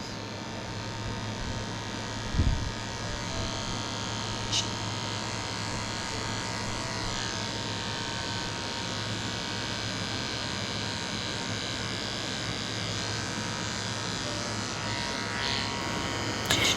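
Electric clippers buzzing steadily while shaving a wiggly poodle's face during grooming, a constant close-up whine with a brief knock near the start, with no talk.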